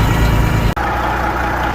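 Rebuilt Peterbilt 379 truck engine running steadily nearby, a continuous low rumble with one brief dropout partway through.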